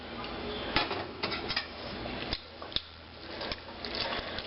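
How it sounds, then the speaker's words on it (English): A tasting spoon stirring black beans in a cooking pot, with irregular light clinks and scrapes of metal against the pot over a soft background, close by and with no talking. "Yes, I'm stirring with my tasting spoon."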